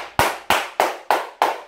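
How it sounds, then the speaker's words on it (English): Five sharp, evenly spaced hand claps, loud and close, in a steady slow rhythm like a single person applauding, with no voices. "We give you that round of applause, and we mean it"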